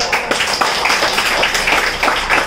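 Loud audience clapping at a Bengali marketing seminar: dense, fast, close applause filling the whole stretch, with no talk.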